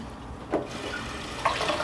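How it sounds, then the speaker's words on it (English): Tap water runs steadily into a container while sprouting seeds are rinsed, a continuous close splashing hiss with two brief louder gushes as the flow shifts. "So when it's time to rinse them, the water just comes out, but the seeds don't."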